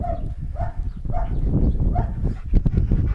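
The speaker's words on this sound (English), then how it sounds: "What are you barking at?" A dog gives a short series of barks and yips, close by, with some rustling and low background noise between them.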